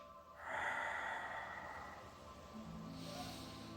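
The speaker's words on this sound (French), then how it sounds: "Et on inspire, on relâche." A single slow breath during a Pilates class is drawn in and then released, a soft, close hiss that fades to a longer exhale.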